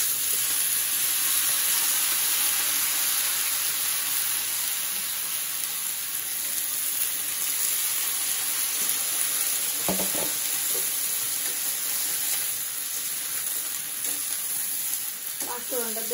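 Dal and vegetables hit hot oil seasoned with panch phoron in a home kitchen, setting off a loud, steady sizzle and crackle that runs the whole time, broken by a few clinks of a stirring utensil.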